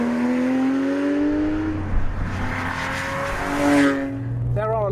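A Porsche 911 GT3 on a racetrack revs hard, its engine note climbing in long rising sweeps with a brief drop between gear changes, loud and close, ending in a quick throttle blip.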